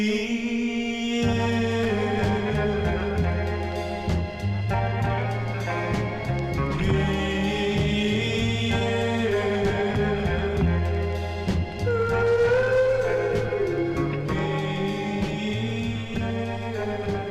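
1965 soul record playing continuously: a full band with vocals, steady rhythm and sustained melody throughout.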